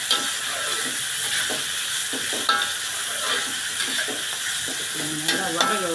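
Vegetables, including potato, are sautéed with salt in a pan and stirred. A steady close sizzle runs throughout, broken by repeated scraping and clinking of the stirring utensil.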